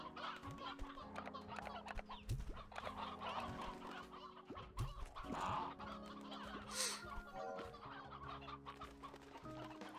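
Chickens in the video game Slime Rancher 2 cluck repeatedly in short, irregular bursts at close range, with no talking.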